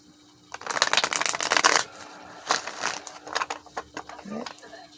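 Tarot cards being shuffled by hand, two bursts of riffling: a long dense flutter followed by a shorter, choppier series of snaps and taps, close and clear.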